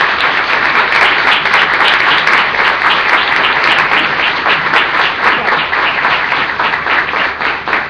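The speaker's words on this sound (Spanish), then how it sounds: "Así que el aplauso es para ustedes." A crowd at a health technicians' gathering at Hospital Muñiz breaks into sustained loud applause, dense even clapping that continues for the full stretch without pause.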